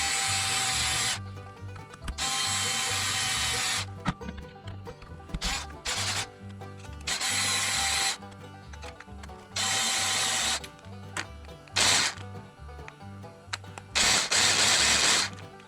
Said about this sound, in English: I'm going to use my driver, but I'm not going to go all the way down with it.